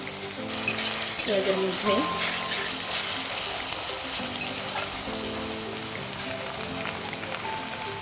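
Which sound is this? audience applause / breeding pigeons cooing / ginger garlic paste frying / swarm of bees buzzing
ginger garlic paste frying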